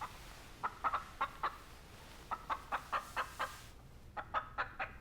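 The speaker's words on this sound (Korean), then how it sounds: "밖에 있던 닭 소리가 분위기를 깹니다." Chicken clucking outside, repeated short clucks in quick bursts, fairly faint and distant against quiet room tone.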